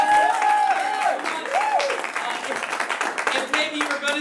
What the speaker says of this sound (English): a double round of applause for you